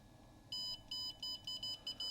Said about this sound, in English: so we do connectivity,